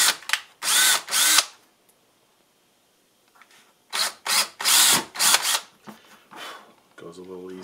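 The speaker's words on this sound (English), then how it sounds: "now we'll want to drill our holes for the screws" A power drill whirs in several short bursts, boring screw holes in a leather belt, loud and close, with pauses between them and a brief mechanical rattle near the end.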